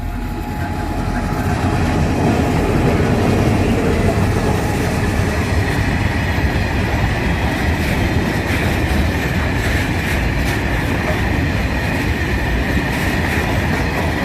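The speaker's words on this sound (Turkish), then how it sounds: "Evet tren geldi. Kömür treni yolcu treni yok." A heavy coal freight train rumbles steadily past nearby, a loud continuous roar of wheels and rail clatter that fills the whole stretch.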